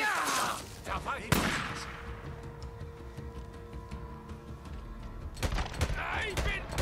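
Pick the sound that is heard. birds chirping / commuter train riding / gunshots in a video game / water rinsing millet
gunshots in a video game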